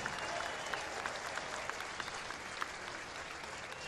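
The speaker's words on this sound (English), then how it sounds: "Nice round of applause for Matt Adams." Crowd applause rolls through the stands at a spring-training baseball game between the Nationals and Cardinals, a steady dense clapping wash from a large distant audience, with no voices.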